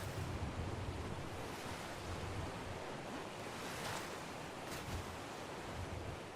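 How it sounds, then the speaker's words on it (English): River water in the ARK Survival game, a continuous rushing wash of flowing water with faint gusty swells, steady and fairly quiet with no talk. "Joys of living next to the river."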